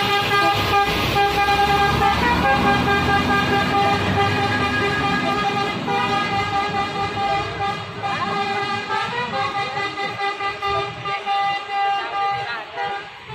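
A Palala Special Anniversary bus in West Sumatra pulls away with a deep engine rumble and repeated tooting horn blasts, loud at first and gradually fading.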